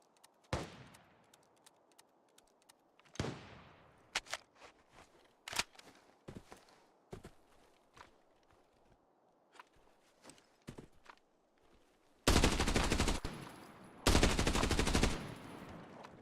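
Video game gunfire with a whole magazine emptied: scattered single shots and footstep-like thumps, then two loud sustained bursts of rapid automatic fire near the end, close and alone.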